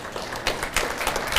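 Brief applause from an audience at a regional economic development event in Carroll County, thanking staff; steady clapping at moderate volume with several slightly stronger claps punctuating it.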